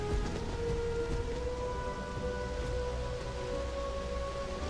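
Steady rain in the video game Starfield patters continuously over a low rumbling background, with faint tonal hum lines running throughout.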